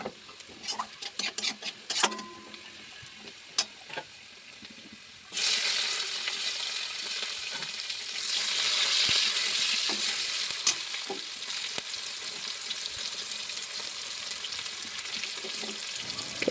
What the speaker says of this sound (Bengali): পেঁয়াজগুলোকে বেশ ভালো ব্রাউন করে ভেজে নিতে হবে